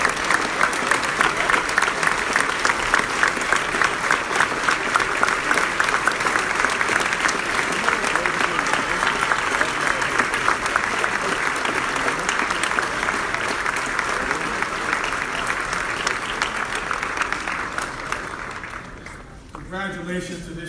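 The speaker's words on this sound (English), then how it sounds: "And let's have another round of applause for all of our wonderful 2018 Spirit of Service Awards recipients." An audience applauds at an award presentation honoring service award recipients, a long, steady, full-room ovation that holds for nearly twenty seconds before tapering off, with some voices under the clapping.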